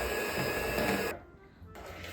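An electric mixer whirs loudly while it blends cream with vanilla sugar for a Napoleon cake filling, then cuts out abruptly for about half a second before it starts up again.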